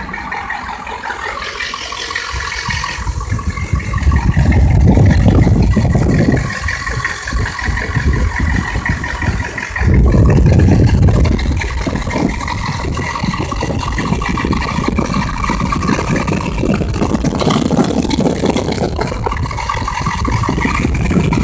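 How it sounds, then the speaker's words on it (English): A steady mechanical whir and rattle from an electric Facet fuel pump, with an engine running underneath, swelling louder twice as the load comes on, no talking. "that's with the motor running. And then I'll go ahead and put it under a load"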